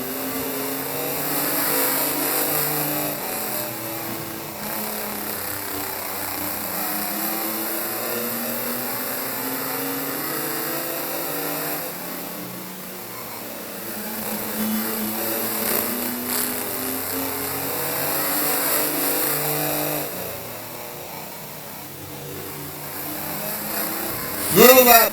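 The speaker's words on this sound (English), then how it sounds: "8-year-old Roger Bowser still out there in that number 11 truck" Race trucks hot lapping at Midvale Speedway, including the number 11 truck, as engines drone and rise and fall in pitch with passes, with a track announcer faintly in the mix.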